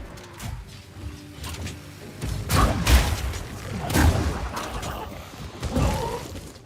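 Fire igniting and bursting explosions in the action RPG Path of Exile 2, played in hardcore solo self-found mode: three heavy booming blasts roughly a second apart over a steady background of game rumble, with no talk.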